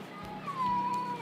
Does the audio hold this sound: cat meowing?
yes